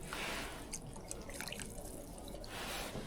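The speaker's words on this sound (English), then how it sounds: "we just put a little bit of water in there." A little water is poured into a soup pot sitting on a cheap hot-tent stove, a faint, quiet trickle and splash with a few soft drips, heard alone.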